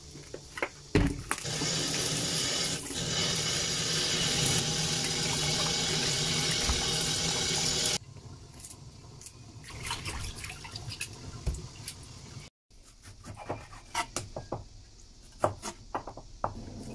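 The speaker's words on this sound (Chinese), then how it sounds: "这样就菜给洗一下。" Tap water runs steadily into a kitchen sink while king oyster mushrooms and green chili peppers are rinsed, then the flow stops, leaving scattered drips and light clatter.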